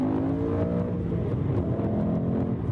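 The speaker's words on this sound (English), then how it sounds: "I can give it a little bit of revs" A warmed-up 2013 BMW M3 Competition Package engine revs steadily, a loud rich drone with harmonics rising and falling slightly, heard close up with no talking.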